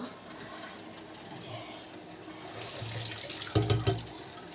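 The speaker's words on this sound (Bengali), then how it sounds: "এবার মোচাটা জলটা ঝরিয়ে রাখবো।" Boiled banana flower is drained, and water pours and splashes steadily into a sink close by, growing louder and heavier partway through.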